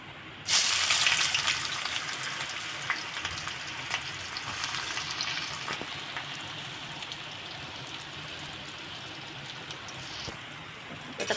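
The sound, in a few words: onion and curry leaves frying in oil in a wok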